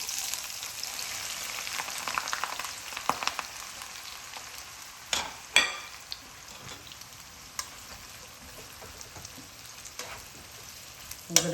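Onions frying in hot oil in a pan for a Mughlai chicken korma, a steady soft sizzle with a few sharper pops and crackles partway through, no voices.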